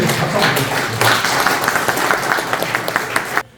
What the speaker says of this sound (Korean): 제 말에 동의를 하시다면 윤 교수는 정면에서 박수 한번 주십시오.